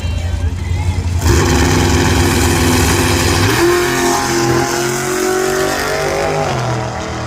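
Ford Barra-engined race cars roar hard along a drag strip, a loud sustained engine howl that rises in pitch as they accelerate past, with a voice talking over it.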